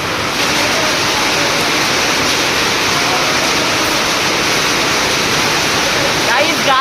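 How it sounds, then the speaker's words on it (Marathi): Hailstorm rain pounds down in Pune as a dense, steady roar of hail and heavy rainfall, loud and unbroken throughout with no distinct individual impacts. "गारा गारा पाऊस बघा पुण्याचा पाऊस."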